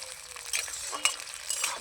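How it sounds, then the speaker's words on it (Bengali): Sliced onions fry lightly in a pan with a soft, continuous sizzle, and a spoon stirs and scrapes against the pan in a few brief clinks. "এই পেঁয়াজগুলো কিন্তু খুব একটা ভাজা যাবে না, হালকাভাবে একটু ভেজে নিতে হবে।"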